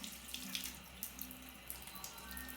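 Water running steadily from a tap into a sink during face washing, a soft continuous splashing hiss with small irregular splatters, fairly quiet and without voices.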